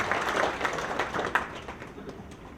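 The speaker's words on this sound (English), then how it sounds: "Let's again give a round of applause to these two ladies here" A crowd applauding two women writers, Carla Gomez and Billy Galayco, at an event, with scattered individual claps standing out at first, then the clapping fading and thinning toward the end.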